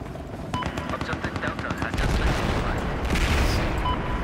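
Heavy gunfire in a Battlefield 4 match, with rapid rattling shots and booming blasts from an explosive shotgun overlapping, loud and dense, while a player talks over the shooting.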